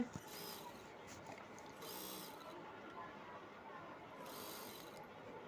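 A sewing machine runs in short bursts while stitching the fall onto a cutwork designer saree, with the strip folded double and hemmed, giving a faint, quiet mechanical whir that starts and stops.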